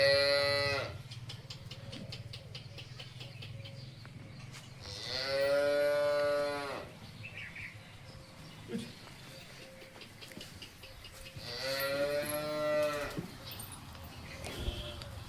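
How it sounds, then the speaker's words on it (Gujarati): A Holstein Friesian dairy cow on a farm moos twice, long loud lowing calls separated by a quieter pause, close by, with some low background noise and faint talk between the calls. "આ એચએફ ગાય તમે જોઈ શકો જે વેચવાની છે"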